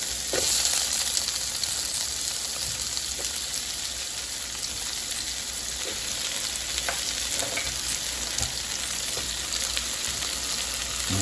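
Chopped onion and garlic fry in hot oil, a dense continuous sizzle like steady rain, with faint stirring scrapes scattered throughout and no voices.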